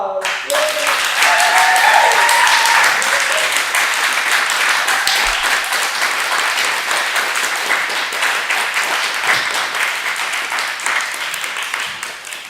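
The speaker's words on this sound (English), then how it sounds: "Another round of applause." Loud, sustained audience applause after a theatre performance, dense clapping from a full house that holds steady and slowly fades, with a brief cheer near the start.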